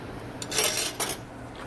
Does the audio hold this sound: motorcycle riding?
no